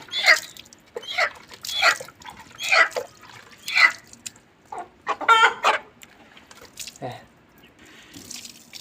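Several chickens and a rooster cluck in repeated bursts close by, with brief pauses between calls and a faint trickle of water in the background.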